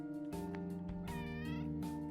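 A cat meows in the OneShot video game, a few clear, tonal calls in close succession against a steady game background with no talking.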